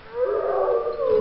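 A drawn-out, eerie howl from a horror video game, a single sustained wavering wail lasting about a second, loud and up front with nothing else over it.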